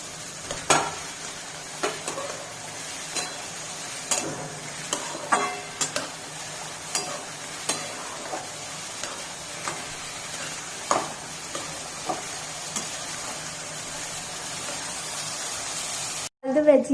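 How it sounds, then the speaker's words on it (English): Mixed vegetables sautéing in a pan for lemon coriander rice, a low steady sizzle broken by regular sharp taps and scrapes of a spoon stirring, close and fairly quiet, with a short louder clatter at the very end. "Now I will put all other vegetables and saute them for about 5 to 6 minutes."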